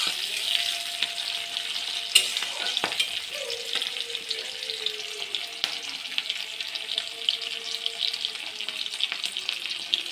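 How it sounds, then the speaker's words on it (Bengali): Black cumin seeds fry and crackle steadily in a pan for an eggplant and hilsa dish, with occasional sharp knocks of stirring and a faint, thin tone drifting underneath. No one speaks. "এরপরে দেখুন আমি এর ভিতরে একটু কালো জিরে দিয়ে দেব। দিয়ে এটাকে নাড়তে থাকবো।"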